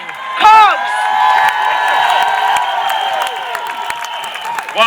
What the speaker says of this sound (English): So let's have a big round of applause for a real dentist